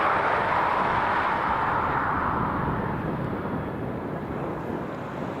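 A Vueling passenger jet, flight VY8721, departs Dublin Airport for Barcelona with a broad, steady roar that slowly fades as it moves away, and there is no talk.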